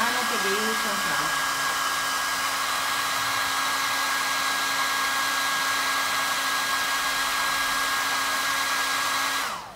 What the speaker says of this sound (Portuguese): eu sei que é chato o secador, mas não temos como evitar